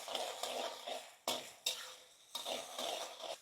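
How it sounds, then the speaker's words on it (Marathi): Chopped onion sautéing in a pan with salt and turmeric, a steady close sizzle broken by sharp scraping stirs and clinks of a spatula against the metal. "दोन मिनिटं परतून घेऊ व्यवस्थित आपण कांदा। मीठ घालून घेऊ चवीनुसार, थोडीशी हळद मिक्स करून घेऊ।"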